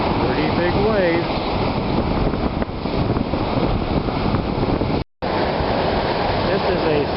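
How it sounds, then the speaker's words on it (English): Big wind-driven ocean waves roll onto the beach at Perdido Key, a dense, constant roar mixed with heavy wind buffeting on the microphone. "because of the wind, pretty big waves"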